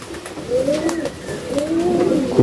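Pigeons cooing in a loft, several rolling throaty coos in two swelling phrases, close and moderately loud over a low background hum, with faint speech in the background.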